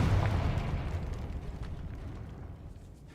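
A Confringo explosive spell from Hogwarts Legacy goes off in a single heavy blast whose deep rumble decays over a few seconds, heard alone with no talking.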